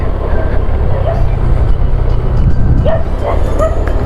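Dogs bark and yip intermittently at a moderate distance over a steady low rumble of traffic at night, with faint voices mixed in.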